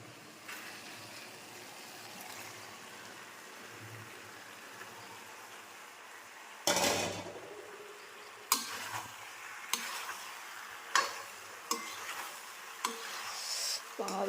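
Cooked pasta tipped into a hot pan and stirred: a soft frying sizzle runs throughout, a louder splash of sound as the pasta drops in, then repeated sharp scrapes and clicks of the spoon against the pan.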